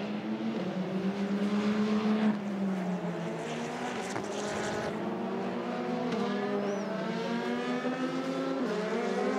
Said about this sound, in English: Jose Maria Lopez now gets the signal to go, blast out of the pit lane